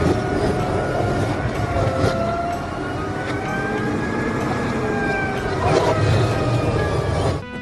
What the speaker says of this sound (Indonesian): Iya teman-teman, ada kereta Thomas.